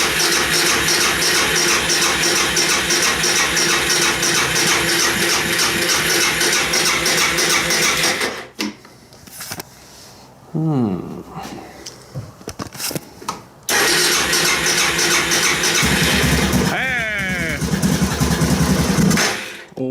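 Suzuki DR650 motorcycle engine being cranked and started, a loud close idle running steadily before a stretch of quieter sputtering and cranking, then the engine catching and running strongly again.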